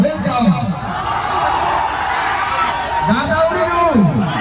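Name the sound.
crowd going wild at Mani Meraj film launch event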